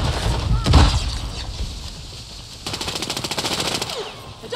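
Automatic gunfire in a Warzone match on the Vondal map, a heavy shot early on followed by rapid bursts of machine-gun fire, loud and near, with players talking over it.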